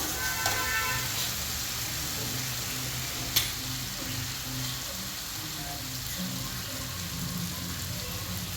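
Chicken sukka masala sizzles gently in a pan as garam masala is added and stirred, a soft steady frying hiss with one brief clink partway through, under someone talking.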